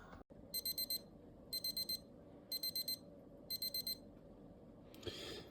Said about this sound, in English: so we've got an alarm now